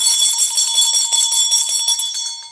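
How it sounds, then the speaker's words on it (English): A small bell is rung rapidly and repeatedly, giving a bright, sustained ringing with a shimmering tremolo that holds for a couple of seconds before it is cut off, clear and close with no voices. "Let's ring my other bell."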